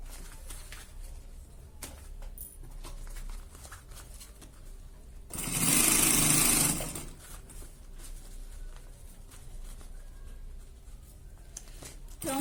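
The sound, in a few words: sewing machine stitching a bag organizer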